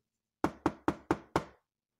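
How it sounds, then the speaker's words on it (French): Five firm knocks on a door, evenly spaced and close, ring out crisply against silence as a sound effect in a read-aloud children's story. "on frappa à la porte"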